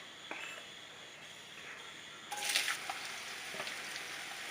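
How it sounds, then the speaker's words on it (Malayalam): Chopped onions hitting hot oil in a pan, a soft steady sizzle that swells into a brighter, louder crackle partway through, with occasional light stirring clicks, close by and alone. "ചൂടായ എണ്ണയിലേക്ക് കട്ട് ചെയ്ത് വെച്ച സവാള ചേർത്ത് കൊടുക്കാം."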